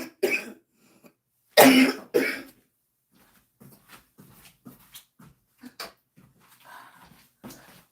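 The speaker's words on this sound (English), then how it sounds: "because I'm coughing." A few sharp, loud coughs in quick succession near the start, followed by quieter scattered clicks, shuffles and small throat sounds.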